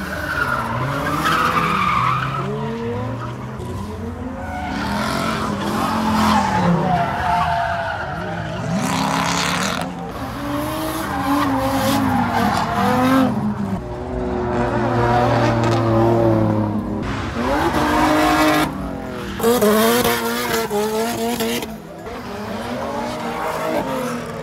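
Cars drift around a drift track with long, wailing tire squeals and skids over revving engines, loud and repeated in overlapping bursts as the cars slide past, with no speech.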